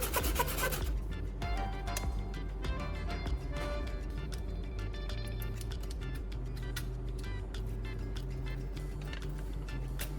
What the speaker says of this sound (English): I place the bottom of the can directly against the sandpaper and begin sanding it evenly